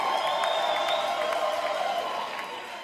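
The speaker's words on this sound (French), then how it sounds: "On applaudit encore très fort une fois de plus pour princesse Betou de Mbuji-Mayi." An audience applauds and cheers for a princess pageant contestant, steady clapping and crowd noise with a few whoops, fading slightly toward the end as a voice talks over it.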